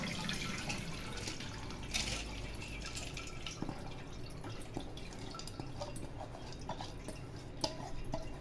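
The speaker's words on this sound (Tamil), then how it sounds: "6 மணி நேரம் ஊறின இந்த மாப்பிள்ளை சம்பா அரிசியை நம்ம வடிகட்டி எடுத்துக்கலாம்" Water drains steadily through a strainer from Mappillai Samba rice soaked for six hours, a continuous close trickle with scattered drips and light clatter.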